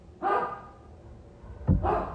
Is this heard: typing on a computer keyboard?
no